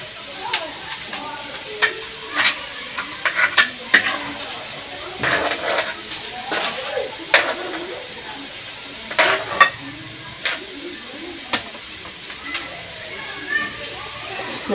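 Onion frying in a pan, a steady hiss under repeated scraping stirs and occasional pops, fairly close and continuous throughout.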